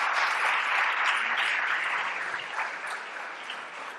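A conference audience applauds the arrival of Goiás governor Marconi Perillo, a dense, even wash of clapping that holds steady and then fades slightly toward the end.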